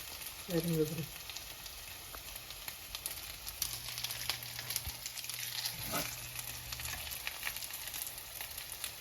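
Onion, garlic, thyme, rosemary and pepper fry in a pan with a steady, moderate sizzle, a few stirring knocks and scrapes breaking through near the start and middle.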